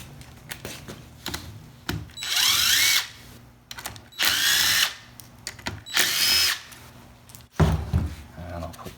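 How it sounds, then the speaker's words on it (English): Power drill spinning out three 8mm stiffener plate bolts on a 4L60E automatic transmission during teardown, heard as three loud whirring bursts of a couple of seconds each, separated by brief clanks and handling noises. "now we're going to remove these 3 8mm bolts for the stiffener plate"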